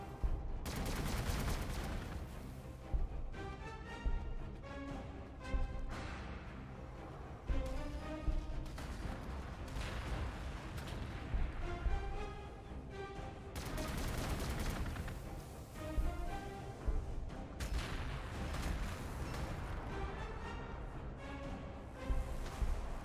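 Soldiers firing in the strategy game Warhammer 40k: Gladius, Astra Militarum infantry, in sustained volleys of gunfire, with rapid bursts and heavier booming shots repeating in waves, loud and continuous.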